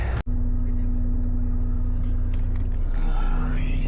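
A truck drives along a road at night, heard from inside as a loud, constant low engine rumble and road drone with a steady hum, after a brief cut at the start.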